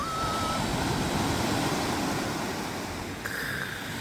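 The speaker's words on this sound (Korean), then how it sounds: "보니까 이렇게 생겼습니다. 바다입니다. 바다." Sea waves on the Sicilian coast roar in a steady, broad wash of surf, loud and continuous, with some wind buffeting the microphone and no voices.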